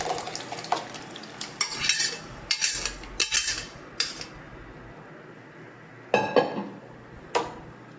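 Pav bhaji vegetables being stirred in a pan, with a spoon clanking and scraping against the metal in irregular bursts, close and fairly loud with quiet gaps between strokes.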